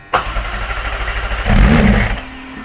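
Engine bought off eBay, now fitted in a McLaren, cranking and catching on its first start, a sharp burst then a steady rumble that swells louder partway through, close and loud with no talking.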